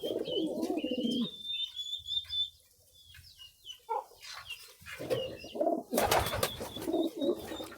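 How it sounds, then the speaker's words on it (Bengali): Domestic native pigeons, several males jostling in a loft, give low throaty coos in bursts at the start and again near the end, with other soft bird calls between them. "আর দেখেন নর কবুতরগুলো একটার একটা কীভাবে ডিস্টার্ব করে"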